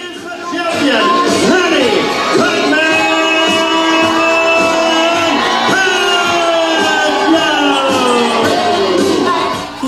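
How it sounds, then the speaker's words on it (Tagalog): A crowd of fans in Las Vegas yells, whoops and shouts as boxers Manny Pacquiao and Adrian Broner make their grand arrival, loud and sustained cheering with overlapping voices and some clapping throughout. "Hiyawan at palakpakan ang sumalubong kina WBA welterweight champion Manny Pacquiao at makakalaban niyang si Adrian Broner"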